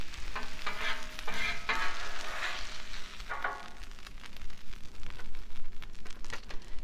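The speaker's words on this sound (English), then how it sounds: "So I'm going to just take the taco meat and just spread right over top of it." Seasoned taco meat sizzles and scrapes on a hot Blackstone griddle as it is spread over chips, a soft steady crackle with intermittent spatula strokes and stirring sounds, fairly quiet and with no talking.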